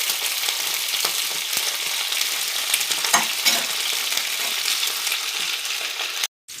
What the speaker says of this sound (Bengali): আর কড়াইশুঁটি ভাজা হচ্ছে।